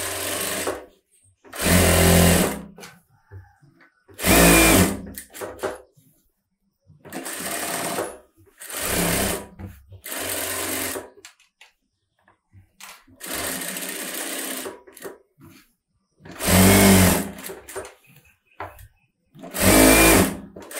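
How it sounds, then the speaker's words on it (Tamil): Sewing machine stitching the lining of a close-neck blouse, running in about eight loud, close bursts of a second or two each with quiet pauses between, alternating with brief stretches of talk. "இப்போ வந்து சுற்றி நம்ம தையல் போடணும். அதை 1/4 இன்ச்சு விட்டுட்டு நம்ம லைனிங்கில் தையல் போடுவோம் இல்லையா?"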